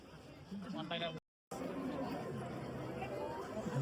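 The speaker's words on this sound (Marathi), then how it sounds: "नुसती गर्दी चालायला पण जागा नाही." Dense crowd chatter at a palkhi procession, many overlapping voices forming a close, continuous babble, broken by a brief dropout of silence and then resuming at the same busy level.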